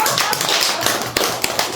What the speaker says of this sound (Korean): 박수 타임이에요.